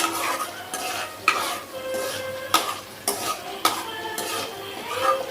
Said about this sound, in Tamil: இன்னும் கொஞ்சம் நேரம் அப்படியே கிண்டிக்கிட்டே இருங்க